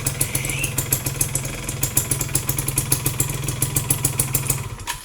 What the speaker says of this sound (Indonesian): si seher ini udah mulai baret, jadi sedikit suaranya kasar